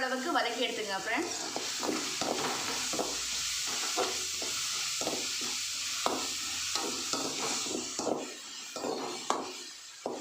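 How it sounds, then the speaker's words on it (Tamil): Ginger garlic paste and onions sizzle in a hot pan for a country chicken fry while a spoon stirs and scrapes through them in repeated strokes, a close steady frying hiss with rhythmic clicks. "நல்ல பச்சை வாடை போகிற அளவுக்கு வதக்கி எடுத்துங்க"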